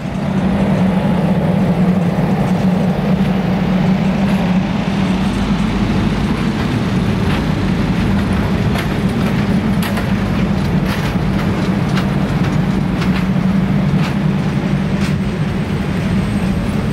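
A CSX freight train rolls past steadily, its deep rumble and wheel noise constant and loud for the whole stretch, with occasional sharp clanks and squeals over the drone.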